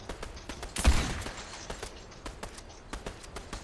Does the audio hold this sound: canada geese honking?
no